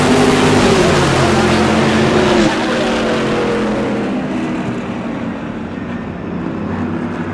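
E-Mod race cars roar around a slick track at New Smyrna, a loud blended engine drone that fades somewhat as the pack moves away.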